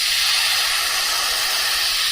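An inexpensive airbrush spraying paint, a loud continuous close-up hiss of compressed air and paint mist, steady and unbroken with no talk.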